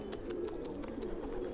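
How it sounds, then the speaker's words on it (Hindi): Pigeons coo in a steady run of soft, throaty calls, about seven pulses in quick succession, close and clear with no talking. "आपको अर्जुन भाई के हमारे कबूतर कैसे लगे"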